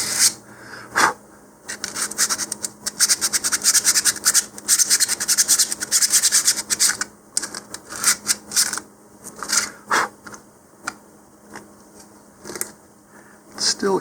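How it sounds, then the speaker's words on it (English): Sandpaper rubbing a 3D-printed model rocket nose cone, a close, dry rasping in bursts of quick back-and-forth strokes with short pauses between them. "So we're just going to sand around here a little bit, make that nose cone fit a little better."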